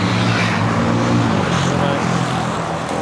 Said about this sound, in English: Very noisy, obviously we're on a main road here.